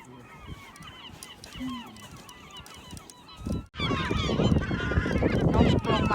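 Geese honk repeatedly in a noisy flock at an ice fishing spot in Finland, their calls overlapping and growing louder and busier partway through.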